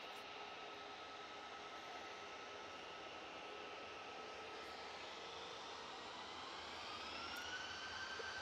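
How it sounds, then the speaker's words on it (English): An easyJet Airbus A320 jet at Manchester Airport begins its takeoff roll, a steady broadband engine roar that holds evenly from a distance and swells slightly toward the end. "EasyJet A320 now on the roll."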